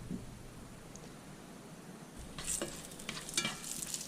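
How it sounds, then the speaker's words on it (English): Salt pork frying in hot vegetable oil in a cast iron pan, a steady soft sizzle that grows louder and crackles more in the second half, with faint spitting pops. "When the oil's really hot there, a little bit of vegetable oil in cast iron pan, for a bit of salt pork."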